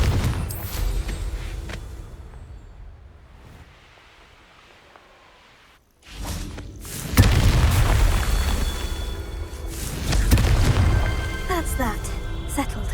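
A Confringo spell explosion in Hogwarts Legacy erupts with a loud, deep boom and a rumbling burst that carries on for several seconds after a quiet lull, with brief game dialogue around it.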